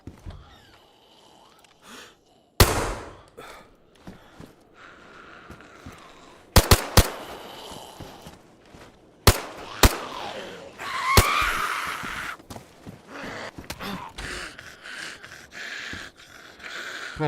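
Gunfire in DayZ while recoil is tested: scattered loud single shots and short bursts separated by quiet gaps, over faint background noise.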